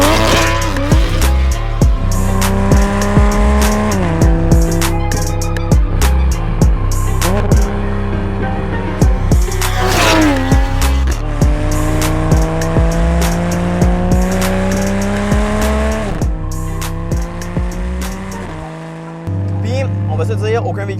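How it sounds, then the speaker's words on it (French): A Toyota Supra MK5 tuned to 600 wheel horsepower does a launch-control standing start, its engine revving hard through rising gear pulls with sharp shift breaks, loud and close. "On va faire un petit départ arrêté, un bon vieux launch control."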